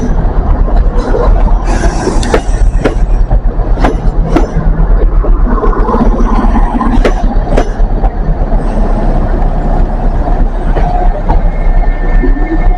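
Trains running on a model railway layout, a steady clattering rumble of wheels on track with occasional sharp clicks and faint squeals, loud and continuous without talk.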